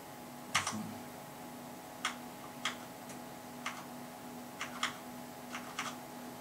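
Keys on a computer keyboard click in about ten sparse, separate taps at an uneven pace, close and fairly quiet, with no talking.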